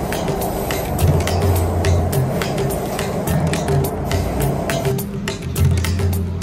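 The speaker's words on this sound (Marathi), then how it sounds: "तर मित्रांनो, मेट्रो सुरू झाली आहे." A Pune metro train starts and rolls along with a steady, close rumble and low mechanical hum, continuous throughout with a slight rise and fall in loudness.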